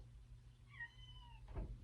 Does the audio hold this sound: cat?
yes